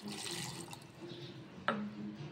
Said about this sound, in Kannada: ಇದಕ್ಕೆ ನಾನು ಸ್ವಲ್ಪ ನೀರನ್ನು ಸೇರಿಸ್ಕೊಳ್ತಾ ಇದ್ದೀನಿ.